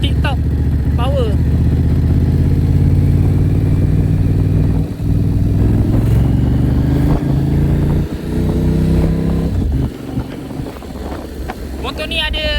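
A Moto Morini X-Cape 1200 motorcycle's engine runs with a loud, steady low rumble and changing pitch, wind buffeting the microphone and a voice speaking over it.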